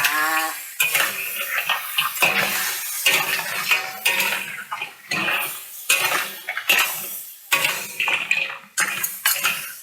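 A crab being turned over in a covered pan while frying with ginger and scallion, with repeated loud metallic scraping and clanking of utensil against pan in irregular bursts.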